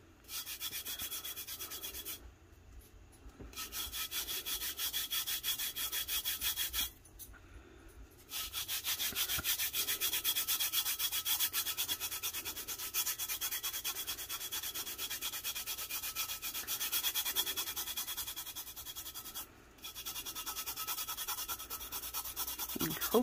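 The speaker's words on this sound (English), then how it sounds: "So, I'm going to start burnishing this now. Just rub your hand over it" A hand rubs and burnishes glitter onto a stainless steel tumbler, a steady close dry scrubbing that runs almost nonstop with a few short pauses.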